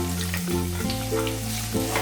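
Sliced onions added to hot oil with bay leaf, cloves, cardamom and cinnamon in a pan for a mushroom capsicum butter masala, giving a steady close sizzle and crackle throughout, alone without talk.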